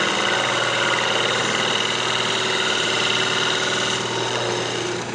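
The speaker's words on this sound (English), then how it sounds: "Just coming in with a square scraper. I'm just going to clean up the edge right here." A square scraper cleans up the edge of a maple box spinning on a wood lathe, heard as a loud, steady motor hum with a continuous scraping rasp throughout.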